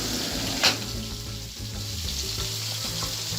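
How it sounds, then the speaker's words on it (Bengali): Onion and fish frying together in a pan, a close, steady sizzle and crackle with one brief sharp clink near the start. "অনিয়নটা ভাজা হচ্ছে আস্তে আস্তে।"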